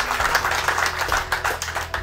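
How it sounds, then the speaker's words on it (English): An audience applauds a contestant, Anne-Marie Burns O'Reilly, at the Lady Farmer of the Year final: dense, rapid clapping from a crowd, steady and fairly loud for about two seconds. "big round of applause there for Anne-Marie Burns O'Reilly"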